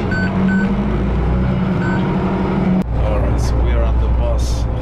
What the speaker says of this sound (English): All right, that's our bus.